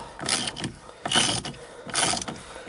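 A bolt-type puller slowly drawing the steering wheel off a Dodge Caravan during a clockspring repair gives repeated bursts of grinding, ratcheting mechanical noise, close and fairly loud, in three main surges with no talk.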